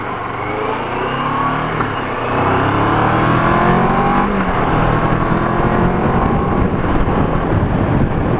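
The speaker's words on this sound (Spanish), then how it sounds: "Viene un coche blanco" A white car drives past on a road near the Lozoya reservoir route, its engine roar swelling and holding loud and close for several seconds with a steady rushing tone and no talk.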